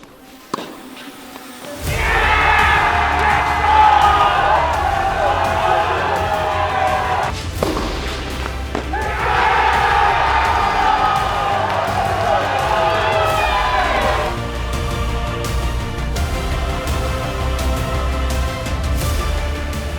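Big crowd at a men's college tennis match roars and cheers in two sustained swells with a short lull between, fading into a lower, steadier hum of noise.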